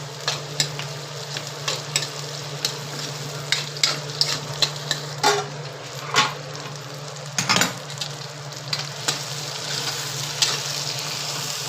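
Chopped tomato sizzles with browned onions in a hot pan, a steady fry broken by repeated scraping stirs and clatters of a spoon against the pan, close and fairly loud with no talking.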